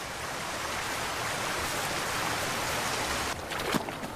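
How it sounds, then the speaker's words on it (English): Heavy autumn rain pours steadily through a temperate rainforest, a dense, continuous hiss that holds close and loud for the whole stretch, with a few brief shifts in texture near the end. "now the autumn rains have really picked up"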